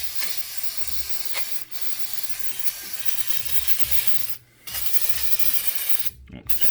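Long continuous hissing spray from an aerosol can of brake cleaner onto a 1993 Toyota Supra rear brake rotor, broken by a few brief pauses, loud and close.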